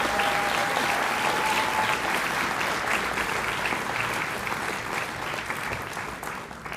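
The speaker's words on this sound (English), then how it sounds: "Let's have one more round of applause." Steady, loud applause from a large audience at an honors convocation, sustained and dense throughout before tapering slightly at the end.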